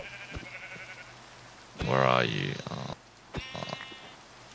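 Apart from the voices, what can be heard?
sheep bleating in a video game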